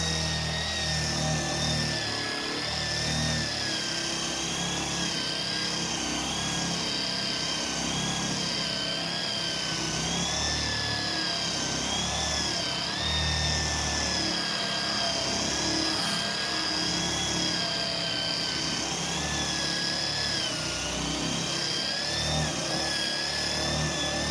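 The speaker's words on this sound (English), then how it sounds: "The first thing to do is to raise the grain. I use a wire wheel to do this." A wire wheel on a power tool runs against a pine plank, raising the grain with a continuous loud whirring and grinding drone that wavers slightly in pitch for the whole stretch.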